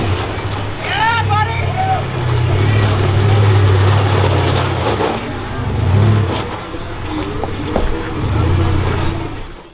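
An off-road buggy on a hardcore obstacle course revs its engine in low, rumbling bursts that rise and fall, mid-distance, with people talking over and around it.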